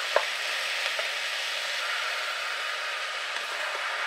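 Butternut squash and onions frying in a pan for a chutney, a steady broadband sizzle holding even throughout with a few faint stirring clicks and taps, close and moderately loud, no talking.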